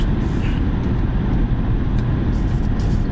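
A Hyundai Kona Electric Premium 64 kWh drives along with a steady low road rumble and tyre noise from inside the cabin, unbroken and fairly loud, with no talking.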